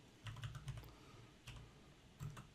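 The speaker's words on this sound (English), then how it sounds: "go ahead and type in blog" Typing on a computer keyboard produces a short run of soft, close key clicks, then a pause and a couple more taps, quiet with no speech.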